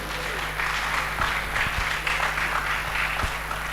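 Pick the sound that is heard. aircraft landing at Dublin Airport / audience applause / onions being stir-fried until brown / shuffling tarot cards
audience applause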